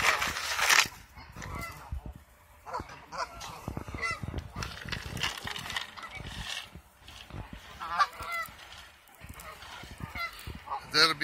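Geese on the grounds of Kellogg Community College honking repeatedly in an irregular flurry, some calls near and sharp, others farther off, with outdoor background and occasional voices.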